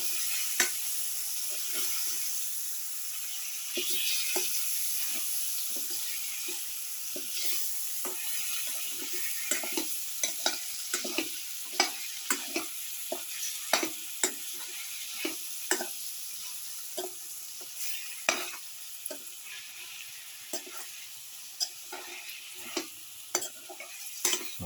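Chicken leg quarters seasoned with salt are stirred in a hot pan, giving a steady close sizzle broken by frequent sharp scraping clicks of the utensil for the whole stretch.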